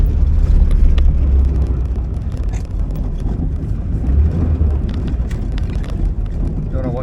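A 1979 Porsche 924 engine running as the car drives, a close, steady low rumble with wind buffeting, a voice talking over it throughout.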